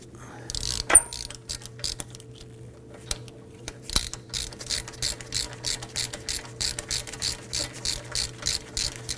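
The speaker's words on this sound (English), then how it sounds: "we're going to go ahead and break these bolts free, and we're going to spin them out a good portion of the way" A ratchet working on the front brake caliper bolts of a 2003–2014 Volvo XC90, with a few sharp knocks followed by a long, regular run of close, crisp clicks as a bolt is spun out.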